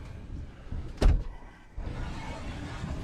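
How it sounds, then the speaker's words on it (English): A sliding pocket door inside a Grand Design Transcend 200MK RV rolls and thumps shut once, a single close, sharp knock against a quiet room background. "Has a sliding pocket door."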